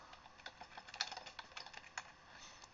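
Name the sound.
typing on a computer keyboard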